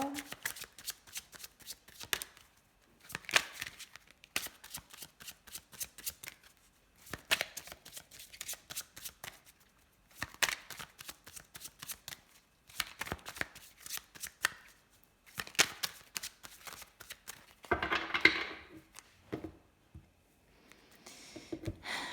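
Tarot or oracle cards are shuffled repeatedly in quick riffling bursts with short pauses between them over about twenty seconds. The shuffling is close and fairly quiet, and there is a brief voice near the end.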